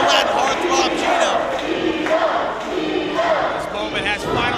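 Wrestling crowd roaring in support of Gino Medina during his match against Ayden Cristiano, a dense, steady wall of cheering and shouting with a commentator's voice riding over the top.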